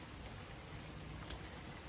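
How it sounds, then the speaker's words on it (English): Steady rain falling outdoors in the morning on a property in Florida after a night of rain, a constant soft hiss of drops with no voices. "it's been raining all night long and it's still raining this morning"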